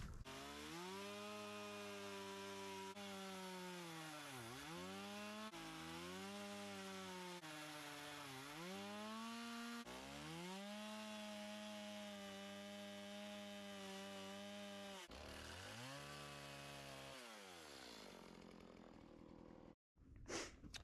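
A chainsaw cuts into wood while a tree is being carved, its loud buzzing engine rising and dipping in repeated sweeps as it bites through each cut, then cutting off abruptly near the end, with no talking.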